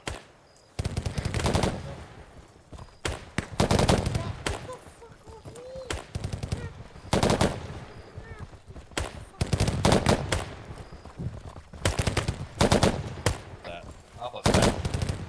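Rapid gunfire during a tactical bounding drill, loud dense bursts of automatic shots repeating in clusters across the whole stretch, with shouted voices between them.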